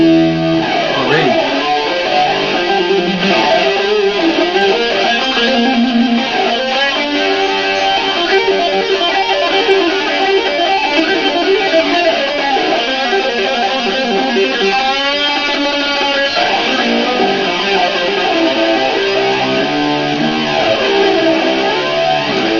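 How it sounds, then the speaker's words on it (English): Electric guitar played through the Kuassa Amplifikation 360 laptop amp simulator's Jet Heavy Distortion Plane effect: a loud, dense, continuously distorted tone with shifting chords and sweeping textures for over twenty seconds, with no talking. "The next one's gonna be Jet Heavy Distortion Plane."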